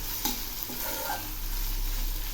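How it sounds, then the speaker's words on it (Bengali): Onions frying in a pan with slit green chillies, a constant low sizzle with a few soft stirring scrapes near the start. "পেঁয়াজ ভাজা প্রায় হয়ে আসছে।"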